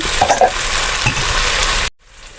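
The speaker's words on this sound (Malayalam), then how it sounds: "ഇത് കുറച്ചും കൂടി ഇളക്കി കൊടുക്കണം തക്കാളി ബ്രൗണ് ആയിട്ടില്ല" Chopped tomatoes sizzle and fry in a pan while being stirred, with a steady hiss and light scraping clinks before the sound cuts off abruptly near the end.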